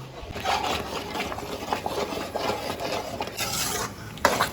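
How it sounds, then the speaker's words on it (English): Coconut and jaggery dodol is stirred and scraped fast in a pan, producing continuous rasping, rubbing strokes up close with an uneven rhythm and a sharper scrape near the end. "Now scrape all the sides clean and go on stirring here very fast, very rigorous"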